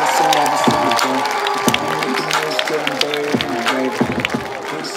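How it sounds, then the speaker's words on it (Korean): Crowd applause and cheering for three b-boy crews at a breaking festival on Nodeul Island, Seoul, loud and dense with sharp whoops, while a host's voice speaks over it throughout. "여러분 열심히 불 살라준 세 팀에게 다시 한번 큰 박수 보내주시기 바랍니다"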